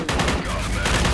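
MP38 submachine gun firing in the video game Forgive Me Father, a continuous loud burst of rapid automatic shots with dense, full-band crackle filling the whole second.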